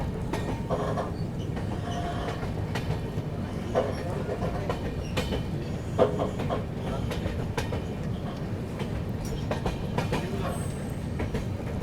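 An Agartala–LTT Mumbai AC Express runs on a single-line diesel section beside the Jatinga river, with a steady rolling rumble of wheels and coaches and repeated clickety-clack joints heard from inside the train.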